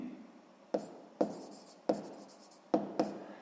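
A pen writes in a notebook during a sixth-grade math exercise, with five short, quiet bursts of scratching strokes separated by pauses and no one speaking.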